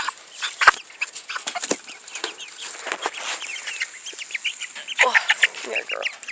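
A fluffy female Brahma chicken clucks in short bursts, close and moderately loud, mixed with rustling and light flapping, with occasional human talk in the background.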